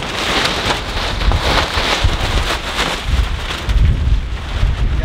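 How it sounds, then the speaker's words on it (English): Heavy rain pours steadily on a cool, cloudy day in Alaska, a dense, loud, continuous hiss with gusts of wind buffeting the microphone and heavier drops pattering close by, and no voices. "Very, very rainy day."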